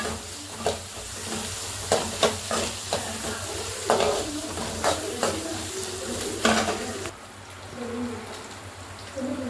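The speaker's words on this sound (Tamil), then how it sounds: "நல்லா பச்சை வாசனை போகிற அளவுக்கு வதங்கிக்கலாம்" Onions sizzle in hot oil in a pan while a spoon stirs and scrapes, tapping the pan in repeated clinks over a steady frying hiss, close and alone, while the base for egg semiya is prepared.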